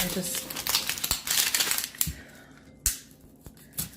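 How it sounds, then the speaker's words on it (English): Papery onion skin is peeled by hand in a kitchen, giving dry crinkling and crackling bursts up close that come in irregular clusters, with a few sharper snaps toward the end. "Peeling a damn onion."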